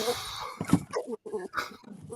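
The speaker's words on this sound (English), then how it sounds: "what's the matter with the dog? He's having a fit." A dog whimpers and gives short, yipping barks in a house, the strained cries coming in quick uneven bursts close by with a brief pause midway.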